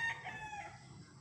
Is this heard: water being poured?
no